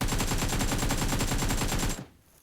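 Automatic gunfire in PUBG Mobile: a fast, steady stream of about sixteen loud, evenly spaced shots rattles for two seconds and then cuts off abruptly.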